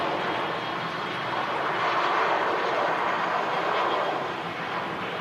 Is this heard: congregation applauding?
no